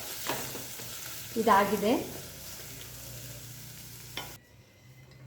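Methi huli, a fenugreek tamarind gravy, stirred and mixed in a pan, giving a steady low scraping and soft sizzle across the clip, with a brief spoken word partway through.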